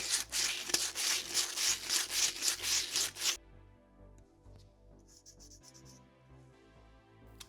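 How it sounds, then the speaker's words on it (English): Sandpaper rubs back and forth on the oxidized underside of an aluminum soda can, a rapid run of loud scratchy strokes that stops abruptly, followed by quiet faint handling noises. "To get a good connection, I'll sand off the oxidized layer to expose the bare metal."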